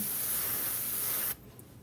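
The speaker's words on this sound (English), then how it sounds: "I'm just going to run it through the gun because right now green's still trying to come out." A paint spray gun blasting paint in a steady, loud hiss for over a second before cutting off abruptly, leaving a faint background.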